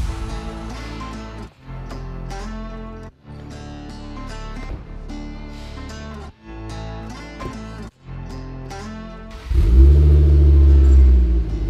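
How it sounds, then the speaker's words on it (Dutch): A Ford Focus RS engine bursts in near the end with a loud, close, deep roar as the car drives, after a stretch of other sound. "we moeten de auto toch nog even warm rijden"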